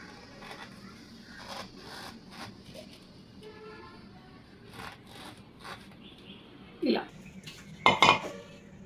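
A plastic mixer-jar lid is pressed into rolled kajjikayalu dough to cut rounds, making soft, quiet scrapes and light taps that end in a couple of sharper clacks.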